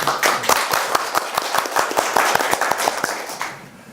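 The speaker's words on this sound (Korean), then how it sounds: "환영의 박수 부탁드립니다." An audience at a climate change forum gives welcoming applause as a speaker is introduced, with distinct sharp claps in a fairly quick rhythm that thin out and fade toward the end.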